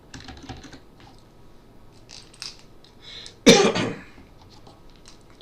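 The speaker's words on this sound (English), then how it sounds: "we are going to type these values" Irregular keystrokes on a computer keyboard as values are typed into a Microsoft Access 2013 lookup field, fairly close and quiet, broken midway by one loud cough or throat clearing.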